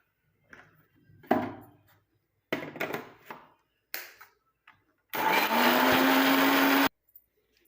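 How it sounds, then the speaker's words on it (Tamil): A mixer grinder whirs through onion and banana flower, with short on-off pulses first, then one loud, sustained blend of almost two seconds, close up and with no talk. "இப்போ வெங்காயத்தையும் இந்த வாழைப்பூவையும் உள்ளே போட்டு நல்லா மிக்சி ஜாரில் எந்த அளவுக்கு உங்களால் அரைக்க முடியுமோ அந்த அளவுக்கு நீங்கள் அரைச்சி"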